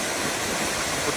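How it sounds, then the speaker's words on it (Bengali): Steady, loud broadband rush of water pouring down through a lake lock gate in London, continuous and even throughout with no voices. "সেই উঁচু স্থান থেকে পানি নিচের দিকে যাচ্ছে"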